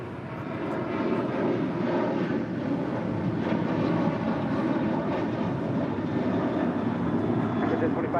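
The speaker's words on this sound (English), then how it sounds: "Air France A350-900 taking off to Paris" Air France Airbus A350-900 on its takeoff roll at LAX, a loud continuous broad jet-engine roar with wind rumble, steady throughout.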